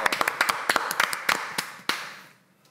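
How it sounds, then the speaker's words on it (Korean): About ten sharp hand claps in a slightly uneven rhythm during a streamer battle royale show, close and fairly loud, then the room falls quiet. "박수 한 번, 박수 한 번 더."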